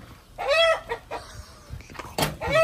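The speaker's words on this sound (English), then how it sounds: "Gonna catch some chicken." Chickens cluck and squawk up close in a series of loud, uneven calls, some rising into sharp cries, with short pauses between bursts.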